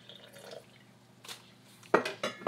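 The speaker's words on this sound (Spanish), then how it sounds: "Echamos el agua." Water poured onto ground oats and apple pieces with a small cinnamon stick: soft drips and trickles, then a brief louder splash with glassy clinks near the end, close by with no talk.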